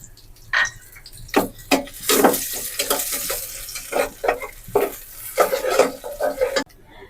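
Cardamom and onion frying in hot mustard oil in a saucepan, with loud clattering stirs and scrapes against the pan over a constant sizzle, punctuated by sharp knocks.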